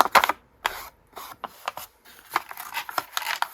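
Paper rustles and crinkles while a journal page is stenciled, a run of close, irregular scraping and crackling bursts with short gaps, no talk.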